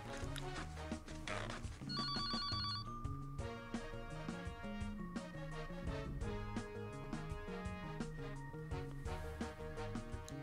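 A telephone rings in the video game Neighbours from Hell 3 in an office: a bright, brief electronic ring over continuous game music, with no talk.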